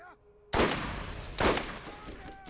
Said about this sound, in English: Wait, who else is shooting at me?